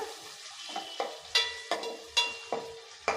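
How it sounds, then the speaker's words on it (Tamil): Chopped onions sizzle in hot oil in a pan while a utensil stirs and scrapes in quick, repeated strokes, close up with no voices. "வெங்காயத்தை நல்லா வதக்கி விட்டுருங்க."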